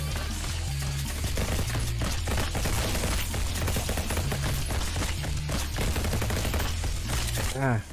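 Dense, loud automatic gunfire from a video game, rapid continuous bursts filling the whole stretch before cutting off abruptly at the end.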